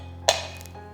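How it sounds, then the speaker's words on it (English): Two ice cubes drop into a glass: a single sharp clink, followed by a brief rattle that quickly fades, in otherwise quiet surroundings. "To a glass, I'm going to drop in 2 ice cubes"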